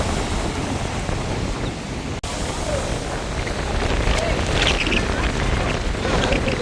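Storm waves crash onto a coastal road during a cyclone, a continuous loud roar of surf, mixed with heavy wind buffeting the microphone and one brief dropout partway through.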